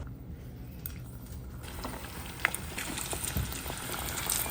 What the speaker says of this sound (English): I'm going to start frying. Make sure that the oil is not super hot